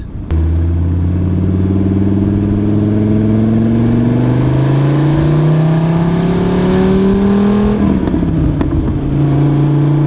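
Dodge Viper SRT10 V10 engine revving loud and close, a steady rising drone that climbs for several seconds, then drops sharply near the end with crackling exhaust pops before settling back into a lower held rev.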